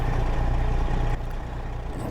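Kenworth W900 truck with a Cummins ISX15 engine in a driving video game, a steady loud low diesel drone that drops slightly partway through, alone.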